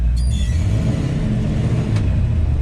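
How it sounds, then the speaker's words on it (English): The engine of a 1965 Chevrolet K15 truck idles steadily with a deep rumble, loud and close, and no one speaks. "Motor sounds good"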